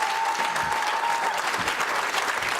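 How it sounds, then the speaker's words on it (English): A crowd at a West Springfield High School Hall of Fame induction ceremony breaks into strong, sustained applause, a thick, even roar of clapping throughout. "a huge round of applause"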